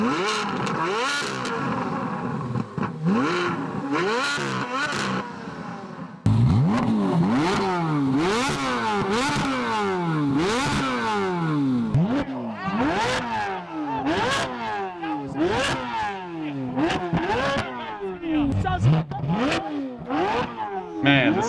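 Repeated sharp revs from a Corvette C8 Z06 V8, loud and close, each blip climbing and falling quickly in a rapid series with short gaps, the bursts growing denser after a brief pause partway through.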